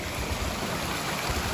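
The waterfall in Central Park rushes in a steady broadband wash, close and continuous with low gurgling pulses underneath and no voices.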